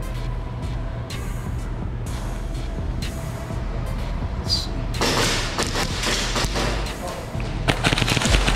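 Airsoft guns fire during a one-on-one match in a KWA Fight Night gulag arena, with quick bursts of sharp shots over steady background noise, heaviest and densest in the second half.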